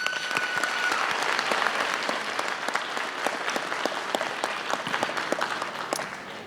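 A large crowd at a high school graduation ceremony claps steadily for teachers and families, a dense sustained round of applause with a few sharper individual claps standing out near and loud, no talking over it.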